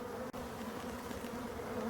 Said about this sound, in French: Et toutes ces abeilles, on voit qu'elles adorent ça.